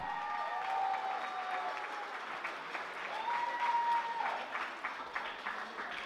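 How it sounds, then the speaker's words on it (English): Wedding guests at the Rockleigh Country Club applaud the bride and groom, a steady, fairly quiet wash of clapping across the reception hall, with faint tonal feedback or music lines drifting over it. "let's give a round of applause to the bride and groom, please."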